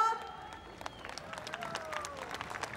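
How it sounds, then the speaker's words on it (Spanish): Applause from a concert audience at a fair, faint and somewhat distant, with scattered claps and crowd noise under a brief voice. "Quiero ver y escuchar esos aplausos"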